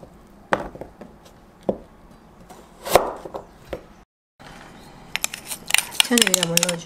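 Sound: knife cutting radish into injeolmi-shaped cubes

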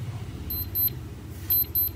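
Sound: alarm beeping of cheap digital sports wristwatch

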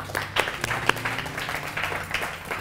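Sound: church congregation clapping

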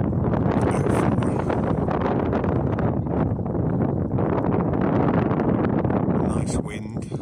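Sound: wind blowing outdoors at sunset

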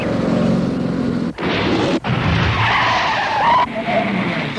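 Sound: car skidding, tires screeching

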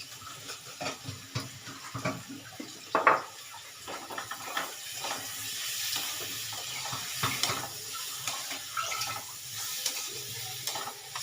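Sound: pouring water into cooking pan

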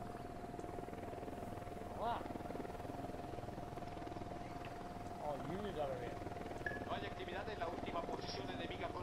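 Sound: helicopter flying over, from video game Ghost Recon Wildlands

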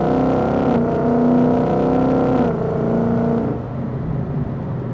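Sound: Ford Mustang exhaust in sport drive mode

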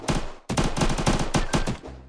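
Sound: gunshots, from the video game Unturned

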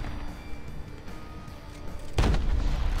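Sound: artillery fire and bombs in War Thunder Mobile video game

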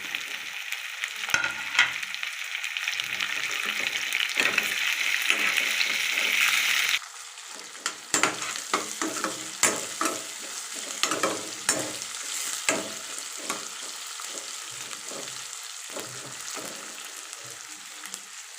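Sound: frying onions in a pan for bottle gourd curry

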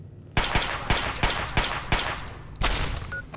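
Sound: gunfire in the video game Fallout 3

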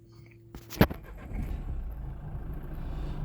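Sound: Nissan 2017 1.5 diesel car engine running

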